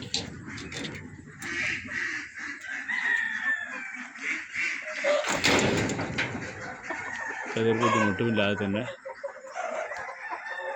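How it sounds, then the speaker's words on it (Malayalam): Sonali roosters crow and cluck on a farm, with other fowl calling nearby, heard under someone speaking. "ഇവിടെയും ഒരുപാട് പൂവൻകോഴികൾ, സോനാലി പൂവൻകോഴികൾ."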